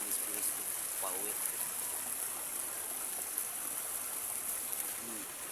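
A forest stream flows in a quiet, steady wash of water, soft and constant, under a high thin hiss, with brief faint sounds that could be voices.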